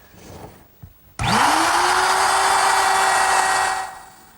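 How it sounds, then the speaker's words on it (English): A router with a trimming bit starts up and cuts along wood veneer on a cabinet top, a loud, steady high whine that holds for about two seconds before winding down. "I'm using the same router bit that I trimmed the wood veneer with a little bit earlier"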